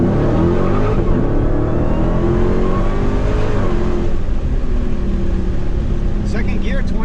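A Dodge Challenger Hellcat Redeye Super Stock accelerates hard from a 20 mph roll in second gear on asphalt, its engine a loud, steady roar that swells and fills the whole clip, with a voice speaking over it.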